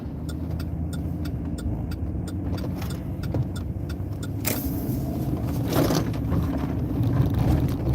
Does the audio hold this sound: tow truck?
yes